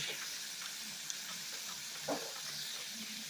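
Soft, continuous sizzle of buttermilk chicken breast frying in a pan, with a few faint scrapes and taps, steady and close with no talking.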